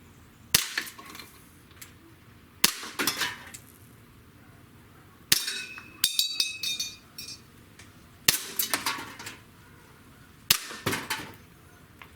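A compact Colt Defender 1911 pistol fires shotgun shells outdoors, giving five sharp cracks spaced roughly two seconds apart, each followed by a light clatter and quieter ambience.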